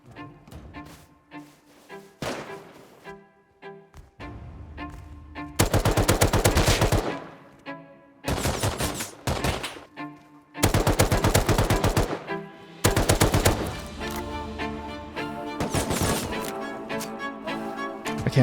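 Bursts of automatic AK rifle fire from the video game Rust, several loud rapid strings separated by short pauses, with softer distant shots and clatter in the quieter gaps.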